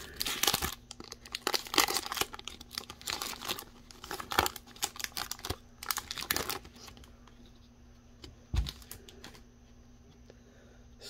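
A 2021 Panini Prizm baseball card pack wrapper, a retail green parallel pack, crinkles and tears open in dense bursts of foil rustling, close and fairly loud, easing into quieter handling near the end.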